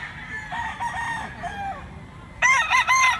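A fighting cock, a ten-month-old gamecock offered for sale in Cebu, crows loudly nearby in a drawn-out call with a second burst, amid faint clucking and background chatter.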